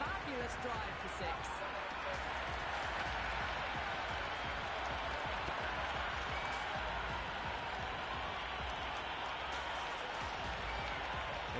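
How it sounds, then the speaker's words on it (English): Stadium crowd roaring and cheering after a six at a South Africa vs New Zealand T20 World Cup cricket match in Ahmedabad, a steady dense wash of distant crowd noise with clapping, under commentary. "The crowd are loving every minute of this match."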